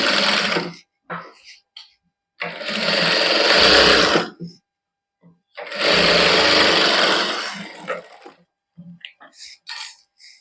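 A sewing machine stitches lace onto a cotton suit in a boutique, running in two sustained bursts of a few seconds each, close and loud, with short pauses, light handling noises and brief talk between them.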